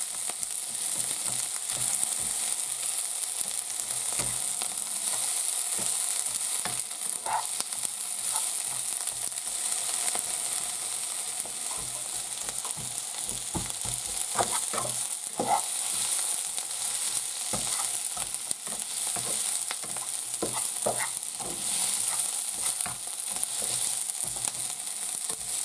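Onions frying in oil for a dopiaza, a loud continuous close sizzle with frequent scraping and knocking of a spoon stirring through the pan.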